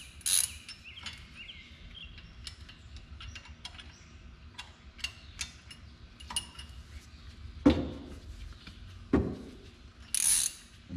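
Ratchet tightening bolts on an aftermarket spindle of a Yukon 4x4, clicking in repeated short bursts with a few louder metallic knocks, close and fairly quiet with no talking.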